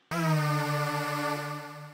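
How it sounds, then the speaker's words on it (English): A single sustained Hoover synth tone made in Logic's ES2 bursts in and holds, buzzy and thick with rich overtones, then slowly fades slightly. "That's the sound of a Hoover basically"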